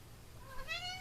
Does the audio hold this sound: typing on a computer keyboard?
no